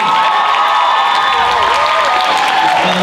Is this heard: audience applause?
yes